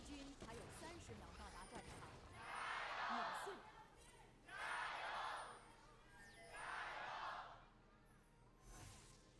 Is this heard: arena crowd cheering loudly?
yes